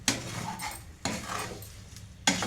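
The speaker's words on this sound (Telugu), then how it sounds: "ఉసిరికాయలు కూడా వేసేసుకొని మంచిగా కలిపేయాలి మనం" A spoon stirs amla pickle in a pot, making three distinct scraping clinks spaced about a second apart over a soft, wet churning sound, close up and without talking.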